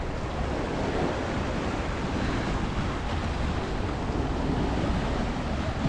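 Sea waves wash steadily against the coast beside a trail near Torquay, mixed with strong wind buffeting the microphone in a continuous, loud broadband roar with no talking.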